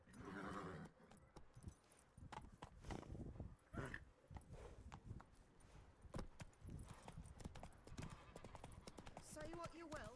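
Horse hooves clip-clopping at a steady walking rhythm in the video game Witcher 3, close and clear, with someone talking over the footfalls.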